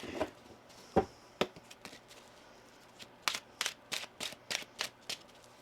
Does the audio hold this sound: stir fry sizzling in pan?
no